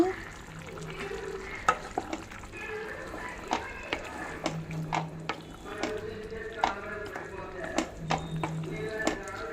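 Curry leaves go into a bubbling egg and drumstick curry masala, giving a soft sizzle with sharp spoon clicks against the pan, several scraping strokes and a low background hum, with occasional speech.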